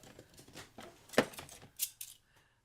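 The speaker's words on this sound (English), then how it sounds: "Scissors with the fancy edges." Decorative fancy-edge scissors for card making and scrapbooking are handled, giving a series of faint clicks and snips with a sharper metallic snap near the middle, close and quiet.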